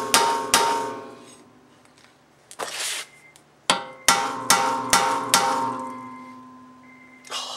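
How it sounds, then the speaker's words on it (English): Sharp metallic hammer strikes ring out on the end of a tool during rear brake and rotor work on an Acura RSX, single hits and a quick cluster, with brief ringing after each blow and quiet pauses between. "I'm gonna hit the end of it with a hammer"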